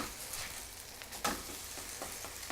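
German potato pancakes frying in a pan on their second side, a faint, even sizzle with a few soft scrapes and one sharper clink, heard up close and without voices.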